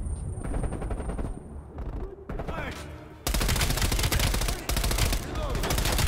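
Bursts of rapid gunfire and explosive shots in the video game Black Ops Cold War, dense and loud, building into a sustained heavy barrage in the second half.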